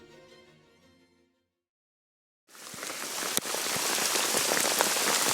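Hail falls during a hunt in Alaska, a loud, dense clatter that starts abruptly after a brief quiet and continues steadily with sharper individual impacts. A faint tonal sound fades out just before it.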